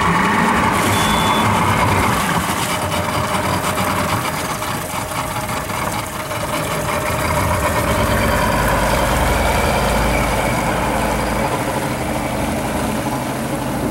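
A two-stroke engine on a 2004 Sea Hunt 215 Voyager boat runs steadily and loudly up close, a buzzing drone that holds throughout with a faint high whine near the start.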